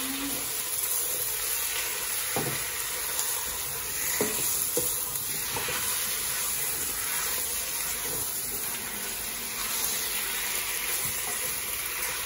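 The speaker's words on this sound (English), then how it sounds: "I'm just going to mix it all up." Lamb curry sizzles loudly and steadily in a pan while a utensil stirs and scrapes through it, with occasional soft knocks under the constant frying hiss; no one speaks.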